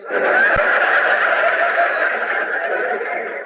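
A man vocally imitates a horse's whinny in a radio comedy, a sustained, wavering neighing cry that holds loud and steady for about three seconds with no other talk.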